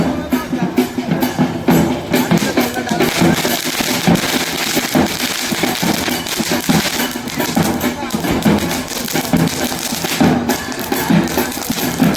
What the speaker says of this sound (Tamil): இப்போ பார்த்தீங்கன்னா வான வேடிக்கைகள், பேண்டுகள் போன்றவெல்லாம் அடிச்சு கொண்டு வரீங்கன்னா